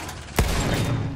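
Gunfire erupts in a Battlefield 1 match, one sharp close shot followed by a dense, rumbling burst of battlefield shooting.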